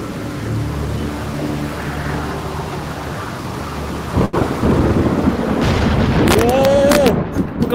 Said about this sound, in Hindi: बारिश हो रही